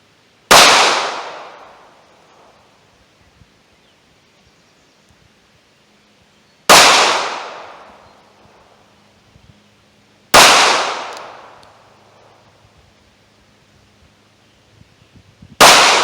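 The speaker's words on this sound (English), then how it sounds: "This was by far the most powerful round that I shot through this LCP." A Ruger LCP pistol fires 90 grain .380 Hydra-Shok rounds at 7 yards. Four loud, sharp shots come several seconds apart, and each one rings out and fades into a quiet outdoor gap.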